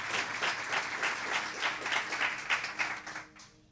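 A church congregation applauds during a Portuguese-language sermon, a steady wash of clapping in rhythmic surges that carries on evenly for a few seconds before thinning out at the end.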